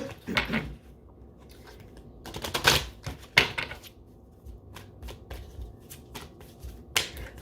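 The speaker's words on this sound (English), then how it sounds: "Let's shuffle again." Oracle cards are shuffled in quick riffling bursts, close up, with short crisp flutters and taps separated by quieter pauses.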